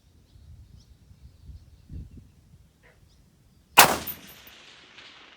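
A SCAR-20 rifle firing 155-grain bullets lets off a single sharp, loud shot with a ringing tail after a few seconds of faint rustling and handling noise outdoors.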